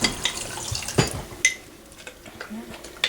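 Homemade butter rinsed in a bowl under water, splashing and trickling mixed with clinks of a spoon against the dish, a few sharp knocks standing out.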